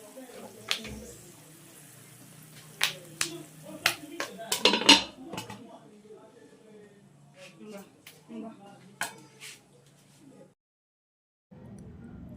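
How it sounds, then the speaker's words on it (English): Popcorn kernels stirred around a cooking pot with a utensil, giving scattered scraping clinks and clanks and a louder cluster of metallic knocks midway. A lid is then set on, and the sounds thin out into quieter rattles under a voice. "I'll stir it one more time and then cover the pot."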